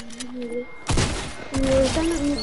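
Pistol shots crack in a video game, two loud bursts about half a second apart, while game music and effects play beneath.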